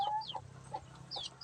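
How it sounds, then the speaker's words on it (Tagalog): Dekalb brown chicks peep in quick, high, rising chirps close by, several overlapping calls in a short burst with a low farmyard hum beneath. "At meron din akong sisiw dito"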